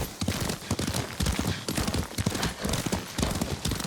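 Horse hoofbeats from riding in the video game Ghost of Tsushima: a quick, continuous clip-clop gallop, loud and close, with no talk over it.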